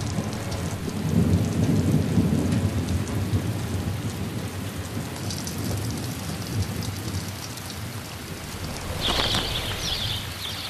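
Heavy rain pours steadily across the Inner Hebrides islands, a dense close hiss with deep thunder rumbling underneath. Another crack of thunder bursts in near the end, and no one speaks.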